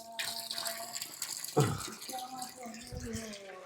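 A shower set up at a pond sprays water in a continuous rushing splash, heard close and steady while a person talks over it.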